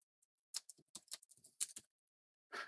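A short burst of computer keyboard typing: about a dozen quick, quiet key clicks in an uneven cluster, then a pause and a final soft rattle of keys.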